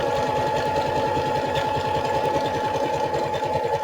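A sewing machine stitches through several layers of paper for a farmhouse-style journal, giving a fast, steady mechanical chatter with a constant whir, close and continuous with no talking.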